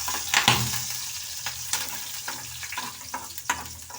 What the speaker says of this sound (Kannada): ನೋಡಿ ಹುರಿತಾ ಇದೆ.